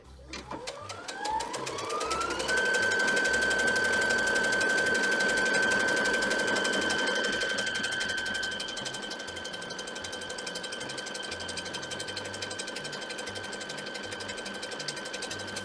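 A sewing machine runs steadily while stitching a dress bodice, speeding up to a sustained whine for several seconds and then settling into a softer continuous hum, close and alone.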